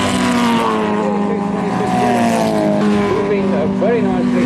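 A race car passes at a race meeting, its engine a loud, sustained drone with shifting pitch as it goes through the gears and sweeps by, filling the whole moment.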